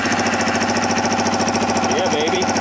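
Kawasaki Ninja EX500 motorcycle engine running loud and close, a steady rapid throbbing idle with a brief rising rev near the end.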